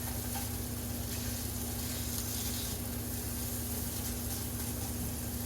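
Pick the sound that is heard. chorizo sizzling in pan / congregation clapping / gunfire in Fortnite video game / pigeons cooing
chorizo sizzling in pan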